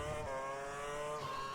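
Formula One race cars scream in a racing video game, a loud continuous high-revving engine whine with a brief gear shift, heard alone and close.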